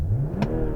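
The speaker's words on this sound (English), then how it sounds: "all I'm going to do is just rev it up like a boy racer" A car engine gets a quick, short rev, like a boy racer blipping the throttle. The rising roar is loud and close and lasts under a second, with no talking.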